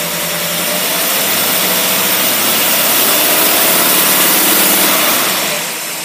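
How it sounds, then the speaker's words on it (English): An engine fitted with a 600cfm manual-choke carburetor runs loud and steady on a dyno. It gives a dense mechanical roar that holds for several seconds and then eases off slightly at the end. "Now we're gonna turn the dyno on, so that we can see what the pull is, how strong the carburetor is going to work."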